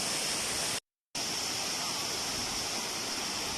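A forest waterfall roars as a steady, dense broadband rush, loud and continuous, broken only by a short cut to silence near the start.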